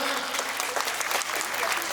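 An audience at a community event in Paninggahan, Solok, West Sumatra, bursts into thick, sustained applause for two honoured local figures. The clapping is steady and crowded throughout, with faint voices mixed underneath.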